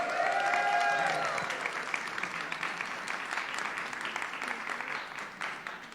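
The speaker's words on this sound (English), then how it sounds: "Please, round of applause." A crowd at a leadership institute demo day applauds steadily, loud at first and gradually thinning out over several seconds.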